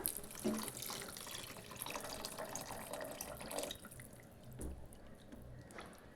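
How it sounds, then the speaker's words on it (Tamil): Water splashes and trickles steadily into a pan of potato curry for a few seconds, then quiets to soft drips and faint clinks. "இதுக்கு தண்ணி சேர்த்துக்கிறேன்"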